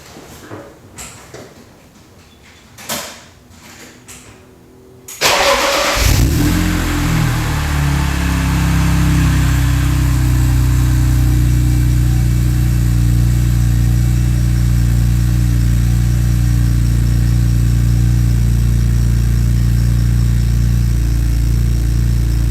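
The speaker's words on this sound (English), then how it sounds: "This is the cold startup on the 2001 BMW Z3 M Coupe, the AC Schnitzer version." Cold start of a 2001 BMW Z3 M Coupe, AC Schnitzer version with the S54 engine: a few faint clicks, then the engine cranks and catches with a loud bark before settling into a steady, high cold idle.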